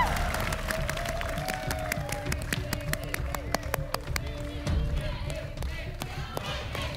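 Studio audience applauding three contestants on an Indonesian TV game show, steady clapping throughout mixed with crowd noise, a host talking over it and faint background music.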